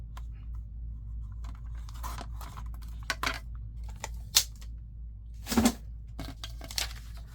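Scissors snip through plain printer paper in short, irregular cuts, with small rustles between them against a quiet low hum.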